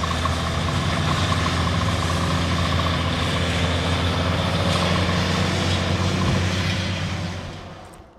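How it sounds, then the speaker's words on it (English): Heavy trucks rumble steadily at night near a pipeline construction site, a loud continuous engine drone with deep low hum that holds for several seconds before fading out; no voices. "Residents say they cannot sleep at night because of the noise from trucks,"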